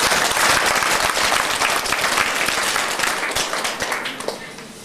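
A group claps their hands together, a dense, brisk burst of close applause that stays loud before tapering slightly toward the end.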